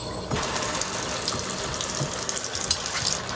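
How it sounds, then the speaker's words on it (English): A newly plumbed shower in a bathroom under renovation starts running, a sudden broadband rush of spraying water that stays steady and fairly close, with small clicks and spatters on top. "Shower."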